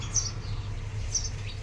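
House sparrows near a shop give two brief, faint chirps about a second apart over a steady low hum.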